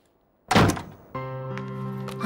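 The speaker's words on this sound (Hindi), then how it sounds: "दरवाजा खोलने में इतना लेट?" A door being opened in a Hindi short crime film: a loud thunk of the door, followed by a sustained tonal hum that continues to the end, with no talk.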